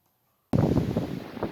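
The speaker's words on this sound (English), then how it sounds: "it's a really windy day out here on the lake" Wind blows across a lake on a very windy day, starting abruptly as a steady, loud rushing buffet against the microphone after a moment of silence.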